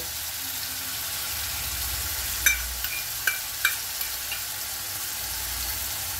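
Onion paste and ginger-garlic paste fry in oil for a rohu fish curd curry, a steady hiss with a few sharp spatula scrapes and clinks in the middle.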